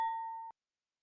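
A single bright notification bell ding rings out, ringing briefly then cutting off into silence.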